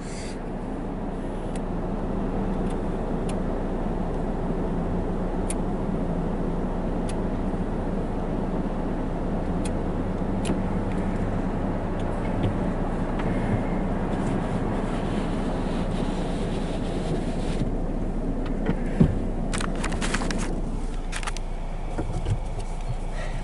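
A Mark VII automatic car wash runs at a petrol station, a steady, enveloping rush of spraying water and machinery heard from inside the car, with brief louder bursts near the end and no talk.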